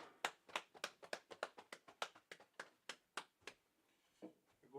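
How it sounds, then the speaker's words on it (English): An audience at a Wednesday night class in Kansas City claps in unison, about fourteen crisp, evenly spaced claps at a quick beat before a brief pause, fairly faint. "Go ahead, clap it up one more time."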